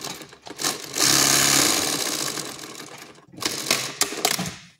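A straight sewing machine stitches a zipper onto a pair of trousers. It runs in a steady, continuous mechanical whir with a brief pause before it starts again in shorter bursts.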